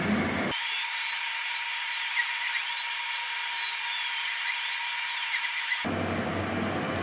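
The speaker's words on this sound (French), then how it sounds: "l'opération finale est la découpe de la forme extérieure" A machine cuts the outer shape of an acrylic hand spinner with a steady, loud whining hum that holds at an even level for about five seconds before cutting off abruptly.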